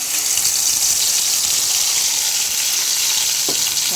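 Ground masala paste hits hot oil for a Karaikudi-style Chettinad chicken gravy, giving a loud, continuous hiss and crackle right up close, with a brief clink near the end.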